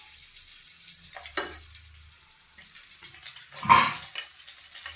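Butter melting in hot oil in a home kitchen pan for pav bhaji, sizzling quietly and steadily, with a few brief clatters and a louder stir of the pan near the end.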